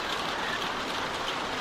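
Steady rainfall in The Walking Dead video game, a continuous even hiss of drops falling outdoors near a barn, unbroken and alone with no talk.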